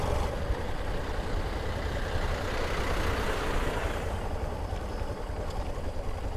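A motorbike travelling along the Lucknow Kanpur Expressway, where road construction is under way, gives a steady, loud low engine drone and wind rush throughout, with no talking.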